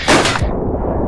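A single loud rifle shot rings out in the World War I shooter Verdun, a close heavy blast followed by a short dull rumbling decay.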